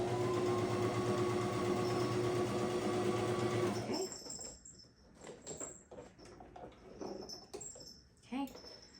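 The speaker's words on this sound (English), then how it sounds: "I'm gonna start from the corner that does not have any stitching, and I'm gonna start stitching here" A sewing machine stitches a quilt block for a three-yard quilt, running in a steady close whir for about four seconds before stopping, followed by quieter handling clatter and small taps.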